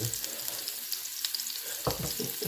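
Onion fries in oil in a pan for fried rice, with a steady close sizzle and a few scraping stirs near the end, fairly quiet overall.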